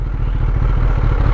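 Loud, close Kawasaki ZX10R motorcycle engine with a steady low rumble and rapid pulsing idle throughout, no talking.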